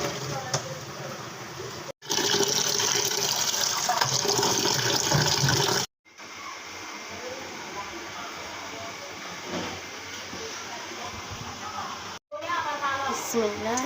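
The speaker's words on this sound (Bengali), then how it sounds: "কিছুক্ষণ বলক ওঠার পর হচ্ছে আমরা এটা ছেঁকে নেব।" Boiled liver and fapsa being drained through a strainer, with water pouring off in steady rushing bursts separated by short breaks, a continuous close splashing stream without speech.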